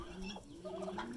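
Domestic turkeys gobbling on a small farm that mostly keeps birds, a dense warbling call rising in bursts, fairly close and alone with no talk over it.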